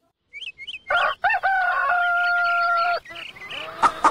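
A rooster crows close by and loudly, giving a few short clucks before one long, sustained cock-a-doodle-doo, followed by softer clucking and rustling.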